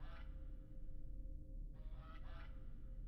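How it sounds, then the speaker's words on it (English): A rubber goose honks in an indie horror video game, a couple of bright nasal squeaks set apart over a steady low background hum, with no talking. "This is a rubber goose."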